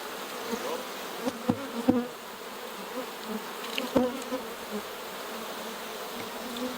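Honey bees buzz around their beehive in a steady, close hum, with a few sharper, louder passes as individual bees fly near.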